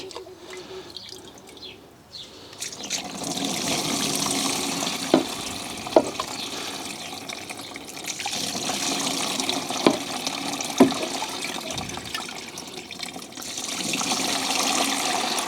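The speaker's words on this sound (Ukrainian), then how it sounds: "Тепер беремо друшляк, самий звичайний, ставимо його на відро і починаємо наливати." Homemade kvass poured through an ordinary kitchen colander set on a bucket, giving a steady splashing, trickling flow with a few sharper drips and spatters over about fifteen seconds, close by and moderately loud.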